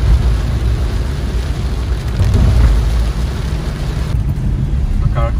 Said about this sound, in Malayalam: ഭയങ്കര മഴ അല്ലേ?